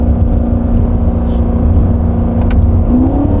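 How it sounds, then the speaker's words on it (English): An extremely loud C7 Corvette accelerates through mountain roads, its engine a constant heavy roar from inside the car, with quick automatic gear shifts briefly breaking the drone before the pitch climbs again. "Those shifts are crisp and they're quick."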